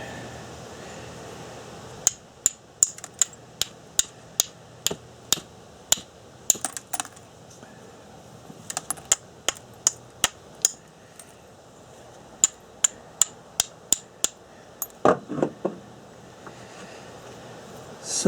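Stone knapped into a Thebes style point preform, with sharp percussive clicks struck one after another in irregular bursts, close and clear over a quiet background, with a short cluster of faster strikes near the end.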